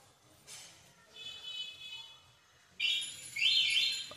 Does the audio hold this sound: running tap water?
no